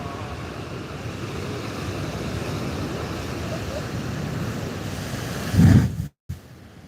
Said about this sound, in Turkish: Okyanus coştu coştu.